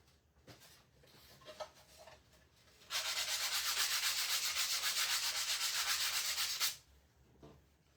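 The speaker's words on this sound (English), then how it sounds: "Sanding dust, it's not sawdust." Sandpaper rubs steadily across a wooden DIY Christmas sign in one continuous, loud stretch of about four seconds, preceded and followed by quieter handling noises.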